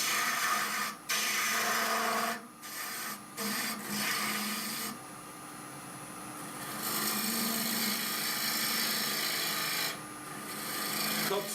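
A woodturning lathe cuts a wooden goblet stem with a harsh, continuous scraping hiss, broken by short pauses and shifting in strength as the tool moves along the spinning wood, heard close with no talk.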